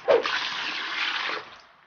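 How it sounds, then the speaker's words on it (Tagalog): Water pours onto a matte black motorcycle helmet before it is washed, a short close gush splashing steadily for about a second and a half, then trailing off. "So ngayon, lalagyan na natin siya ng tubig."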